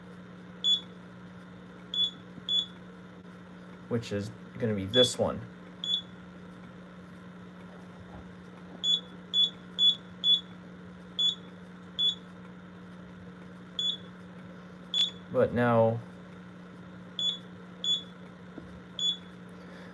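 A Simplex 4005 fire alarm panel in alarm gives short, evenly spaced beeps that repeat steadily over a low hum, while someone talks between them.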